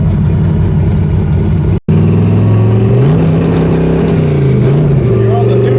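A 1976 pickup truck with a tunnel ram engine revs loud and close, its steady roar rising and falling in pitch, with a brief cutout near the start.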